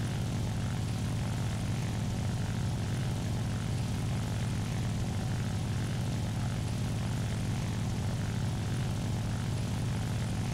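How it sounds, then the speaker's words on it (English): A propeller engine on an LA-7 fighter in the combat flight game War Thunder drones steadily and loudly for the whole stretch, with no voices. "Now that's that LA-7's engine that I hear."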